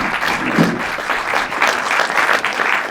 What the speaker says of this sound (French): on peut peut-être les applaudir si vous avez envie